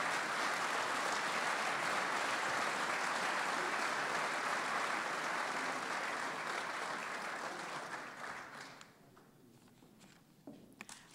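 An auditorium crowd at a city State of the City address gives sustained applause, a thick wash of clapping that holds steady, then thins and tapers off toward the end.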